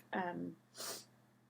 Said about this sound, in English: Sorry for the sniffling, guys.